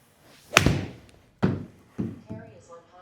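Golf club striking a ball on a second test shot, a sharp close impact thump with a quick decay, followed by a few softer thuds and brief talk.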